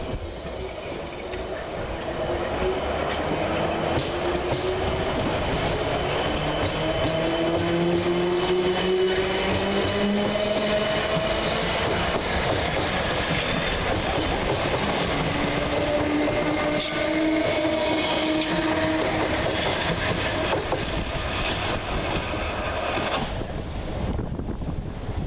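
Two coupled Class 455 electric trains, units 455735 and 455856, run through Twickenham railway station on a South Western Railway service, giving a steady, close rumble and whine of wheels on rails with buffeting wind noise on the microphone throughout.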